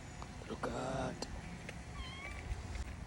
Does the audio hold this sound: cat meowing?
yes